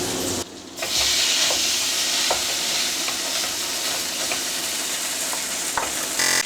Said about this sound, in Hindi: इसमें हम मक्खन डाल के पास्ता भूनेंगे